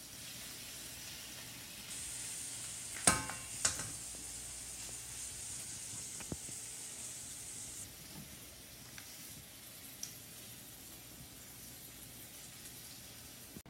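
Flank steak sizzling in soy sauce with green onions in a pan, a steady, faint hiss with a few sharp pops and clatters near the start, no talking.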